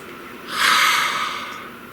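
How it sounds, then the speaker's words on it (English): One deep breath: a soft, airy inhale swells and then fades, close and clear against quiet background. "Please take a nice deep breath."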